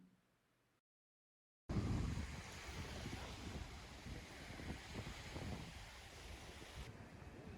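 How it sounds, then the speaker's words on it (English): Steady wind in Larnaca, Cyprus buffets the microphone with a rough, rumbling roar after a brief quiet start, gusting unevenly and mixing with a faint wash like surf. "It's also usually not this windy."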